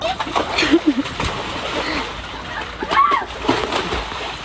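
Choppy sea water splashing and sloshing along a coast at Mariveles, Bataan, close and fairly loud with irregular surges, while people's voices and shouts carry over it.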